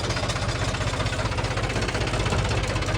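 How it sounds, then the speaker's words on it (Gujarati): A tractor engine idling nearby, a loud, steady, fast knocking rumble with constant vibration throughout. "તો આપણે હવે ટ્રેક્ટર ચલાવવા જઈએ, ટ્રાય કરીએ"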